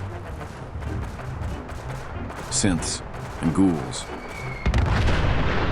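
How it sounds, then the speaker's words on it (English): Gunfire echoes in the video game Fallout 4 on the outskirts of Lexington: a few booming shots and bursts, some distant and some closer, under a voice speaking briefly. "We crept around a corner and heard gunfire."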